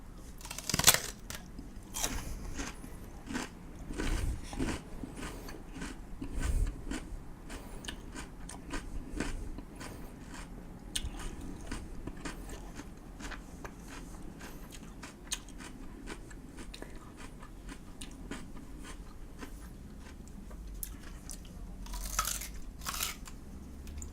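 A man bites into and chews a whole raw Korean radish, peel included. Crisp crunches and wet chewing come close and fairly quiet, in irregular bursts over about twenty seconds, with no talking.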